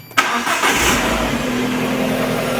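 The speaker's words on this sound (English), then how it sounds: "I'm going to turn on the car now, the engine, and the beeping should go away" An Alfa Romeo 147 Twin Spark engine cranks briefly and catches, then settles into a steady, close idle that continues without talk.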